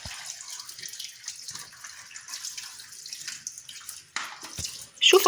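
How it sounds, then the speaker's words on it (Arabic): Running tap water rinses sliced potatoes for homemade chips, a steady splashing hiss with small shifts as the slices are moved, growing louder and brighter near the end. "نغسلها بالمية الحنفية العادية"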